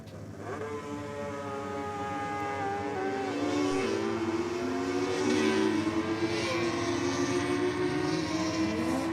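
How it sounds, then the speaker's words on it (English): Drag racing car doing a burnout on the burnout pad at a drag strip, a loud, sustained engine roar with tire screech that swells and holds, heard from a distance. "One coming across the burnout pad right now."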